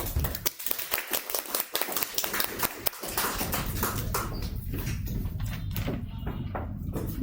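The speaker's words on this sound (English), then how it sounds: "Okay, let's give a big applause to our Toastmasters." A Toastmasters meeting audience claps in a brisk burst of sharp, closely spaced hand claps that thin out after about three seconds, leaving a softer room murmur and low rumble.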